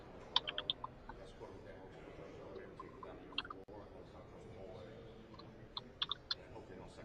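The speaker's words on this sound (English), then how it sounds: "So I'm just typing in my notes here." A computer keyboard tapped in short, sparse bursts of quiet clicks while notes are typed, with long pauses between the bursts and a low steady room hum underneath.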